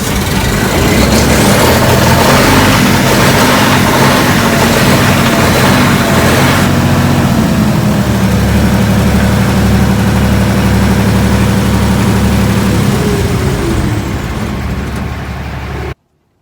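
A Perkins diesel engine on a Lincoln Classic 300 MP welder runs loud and close at a steady idle, a continuous low rumble with a slight shift in pitch partway through before it cuts off at the end.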